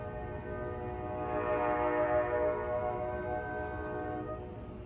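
An NJ Transit train on the Main Line, powered by an ALP45 DP locomotive with a K5LA horn, sounds one long steady chord that swells in the middle and holds over low rumbling, with no talk.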